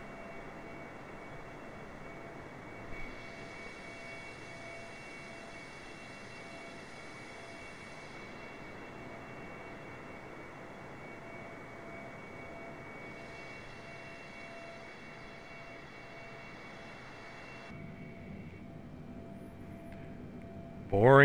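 A Boeing 747's engines in a flight simulator video game hold a steady, even jet drone at cruise, with a soft broadband roar that shifts slightly in tone partway through.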